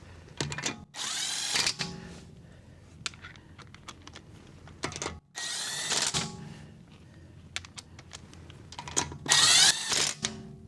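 A power tool spins lug nuts onto a BMW Z4 wheel in short loud bursts, three main runs with ratcheting whirs, separated by quieter clicks and handling noise.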